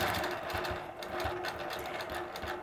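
A sewing machine quilting scrolling borders whirs steadily and close up, a continuous rapid stitching hum running without pause.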